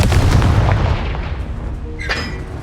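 A Confringo fire spell blast in the Hogwarts Legacy video game, heard as loud, dense booming rumble in the first second that settles into a sustained roar, with a bright crackling burst near the end.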